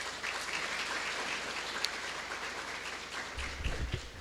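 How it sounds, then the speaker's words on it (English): Audience at an actuarial society convention in Zimbabwe gives steady, sustained applause filling the hall, with a low rumble near the end. "may we please give him another round of applause"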